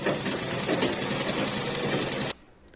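A sewing machine stitches a seam on a winter sock strip with a fast, steady mechanical whir and rattle, loud and close, running for about two seconds before stopping abruptly.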